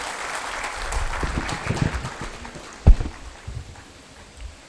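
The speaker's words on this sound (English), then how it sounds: "Can we have a huge round of applause, sir?" Scattered audience applause at a formal law event welcoming the Union Minister for Law and Justice, moderate and uneven with a sharp louder clap, fading off quietly.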